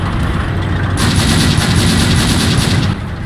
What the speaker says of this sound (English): Right, this gun seems to kick ass. The Dushka in this game.